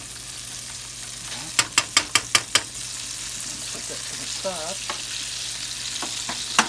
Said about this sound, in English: Still sizzling there.